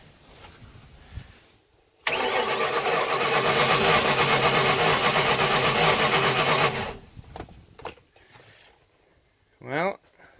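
An old boat engine with 966 hours cranks for several seconds with a steady, rapid churning that never catches, then stops; quieter sounds and a voice follow.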